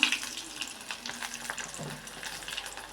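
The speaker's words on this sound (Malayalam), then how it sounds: "ചൂടാകുമ്പോൾ നമുക്കൊരു കടുക് ഇട്ട് കൊടുക്കാം. ഉള്ളി ഇട്ട് കൊടുക്കാം. പിന്നെ 2-3 പച്ചമുളക് ഇട്ട് കൊടുക്കാം." Mustard seeds, onion and green chillies frying in hot coconut oil for a Kerala taro curry, with a steady close sizzle and faint crackles and no voice.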